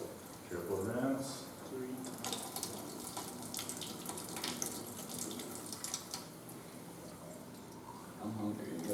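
Tap water runs and splashes steadily into a sink while a water sample bottle is rinsed three times, with a voice talking over the flow throughout.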